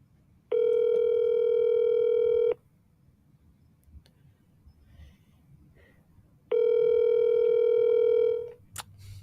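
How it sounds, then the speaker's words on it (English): Telephone dial tone during outgoing calls: two clear, steady tone bursts about two seconds each, separated by a quiet gap with faint background noise, near and loud. "Double dial. We're going to get Julio"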